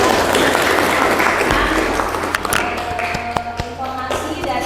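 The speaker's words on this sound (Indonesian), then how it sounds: "Berikan tepuk tangan bagi teman-teman." Classmates applaud during a classroom climate-change physics lesson, a brisk round of clapping that thins out into a few scattered claps and taps.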